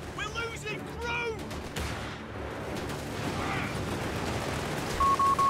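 Gunfire in the Company of Heroes 3 war strategy game, rapid bursts and distant booms rumbling amid battle noise, with voiced unit lines spoken over the combat.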